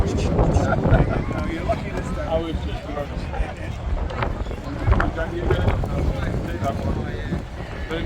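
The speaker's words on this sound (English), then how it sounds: "Ooh, flipping wind." Strong gusts of wind buffet the microphone on a blustery day at the Blyth Battery war weekend event in Northumberland, a continuous rumbling roar with bursts, while people talk nearby.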